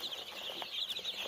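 Local mixed-breed chicks and hens on a poultry farm, a steady chorus of high peeping with faint clucks and wing flutters, continuous and fairly close.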